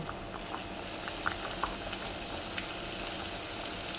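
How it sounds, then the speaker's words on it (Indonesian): Coated fish fillets fry in hot oil, giving a steady close sizzle dotted with small crackles and pops that runs the whole time with no talking. "Tunggu sampai minyak agak panas sekitar 3-5 menit. Kemudian, masukkan ikan yang sudah terbalur tadi satu persatu."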